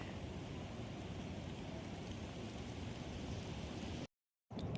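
Steady rain pours down continuously over a village, a dense broadband hiss that briefly cuts out near the end before resuming.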